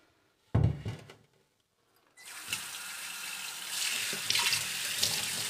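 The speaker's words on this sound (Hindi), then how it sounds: "अब इसको हम अच्छे से धो देंगे।" Tap water running into a clay water pot (matka) to rinse it, a close steady splashing stream that starts after a brief knock and grows fuller and brighter as the pot fills.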